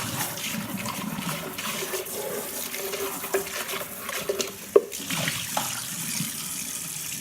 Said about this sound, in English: gonna wash out my blender, give it a good hot water spray